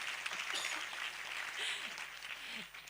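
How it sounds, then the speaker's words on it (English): A round of applause at an event marking an AI campus inauguration, with a crowd clapping in a soft, distant wash of steady hand claps. "We can also give them a round of applause."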